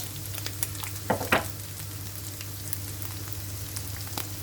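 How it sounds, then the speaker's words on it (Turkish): Ground beef frying in a pan, a soft continuous sizzle with a couple of sharper scraping clicks from a spatula early on, fairly quiet and close. "Evet artık şöyle kıymam kavruldu."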